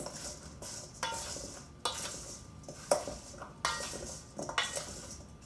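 Food ingredients with half a lemon tossed in a single pan, giving soft repeated scraping and clinking bursts at an irregular rhythm, fairly quiet and close, with no talking.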